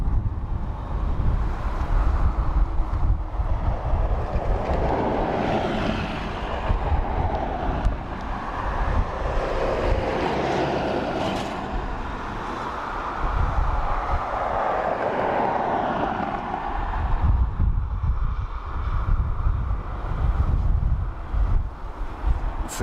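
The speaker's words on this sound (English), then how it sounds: "So this is an ATR 72-600" An ATR 72-600 turboprop airliner arriving at Dublin Airport gives a distant, steady engine drone that swells and fades, mixed with wind rumble against the microphone.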